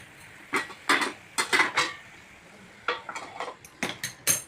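A lid knocks and clatters onto a pot of arbi leaf curry cooking over a slow gas flame in a home kitchen, a series of short, sharp metallic clinks with brief pauses, close and fairly quiet.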